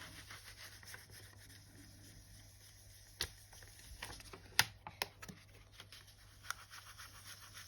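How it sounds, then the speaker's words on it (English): Polymer clay burnished with a cake spatula, a faint soft rubbing and scraping with a few sharp clicks and taps, quiet and close with no voices. "give it a better burnish"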